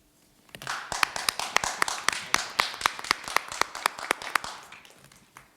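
Meeting attendees applaud together for several seconds, a brisk run of distinct hand claps from a modest group, close and steady before fading out, with no talk over it.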